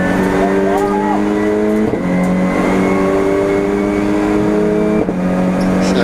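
Race cars on the Donington circuit drone past in traffic out of the hairpin, loud sustained engine notes shifting pitch as they accelerate, with a commentator's voice running over the top.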